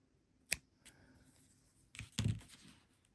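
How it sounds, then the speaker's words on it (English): Scissors snip a small yarn tail from a single-crochet bookmark, giving a couple of quiet, close, sharp cuts among faint handling rustles. "going to take the scissors and we're going to cut a small tail here"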